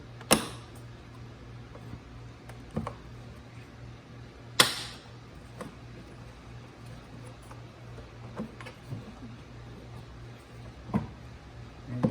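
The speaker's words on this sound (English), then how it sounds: "Remove these two tabs, push them upward." Plastic tabs on the air filter housing of a Porsche Cayenne 3.6 V6 being pushed upward, giving a few sharp clicks and snaps spread across a quiet garage background with a steady low hum.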